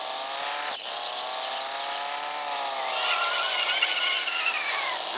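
A car engine hums steadily while driving in the Dude Theft Wars video game, a smooth tonal drone that rises slightly in pitch and gets a bit louder near the end, with a brief thump early on.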